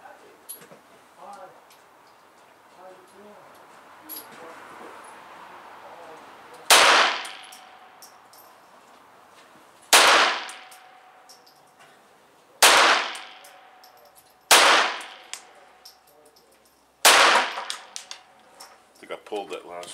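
Five sharp pistol shots from a Ruger Mk-2, spaced a few seconds apart, each a loud crack with a quick decay, after quiet background murmur.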